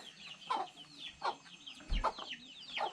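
Chickens in a backyard vegetable garden cluck softly in repeated short calls, close by, with a light thump partway through.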